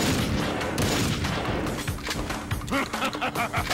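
Shotgun fire in the video game Red Steel 2, with a rapid volley of sharp, close blasts and crashing impacts over a busy background, packed tightly together with brief gaps near the end.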